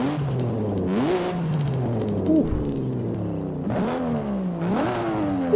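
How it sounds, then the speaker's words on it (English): A car engine with an upgraded exhaust revs repeatedly in Forza Horizon 5, climbing and falling in pitch over a steady rumble, loud and close. "when you change the exhaust, it changes the sound of the revs on the screen"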